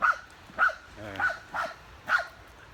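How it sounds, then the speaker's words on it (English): A dog barks five times at ducks in short, sharp yaps spaced about half a second apart, fairly close, with a brief low voice murmuring between barks. "He's barking at the ducks."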